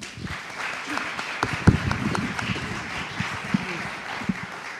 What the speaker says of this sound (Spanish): pido un aplauso para nuestros dos invitados